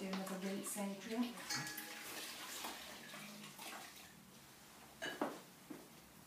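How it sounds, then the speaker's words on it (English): Water splashes and trickles close by as a man's face is rinsed during a facial grooming treatment, the soft pouring and dripping steady throughout with faint chatter in the background. "I'm going to do another rinse, Adrian."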